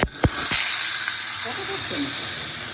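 Cauliflower stalks dropped into hot oil with black cumin seeds burst into a loud sizzle after a couple of sharp clatters, settling into a steady close hiss while a voice speaks faintly underneath.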